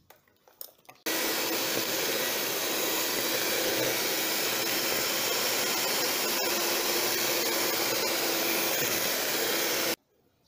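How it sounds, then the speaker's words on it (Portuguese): Electric stand mixer beating cake batter for a blackberry cake, a loud steady whirring motor that starts abruptly after a few small knocks, runs unbroken for about nine seconds, then cuts off. "então agora eu vou ligar a batedeira e vou largando os ovos aos poucos aqui dentro"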